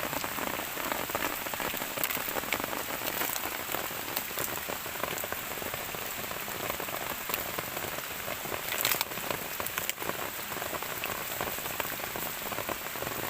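A steady downpour drums outdoors where termite mushrooms are being dug, a thick, unbroken wash of near raindrops pattering across the full length without a pause.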